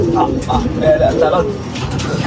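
Pigeons coo close by in soft repeated rolling calls, with a person talking over them.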